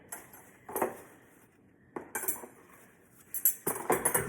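Spoon and fork cutlery handled and set down, several separate metallic clinks and clatters in short bursts with quiet gaps between, close and moderately loud.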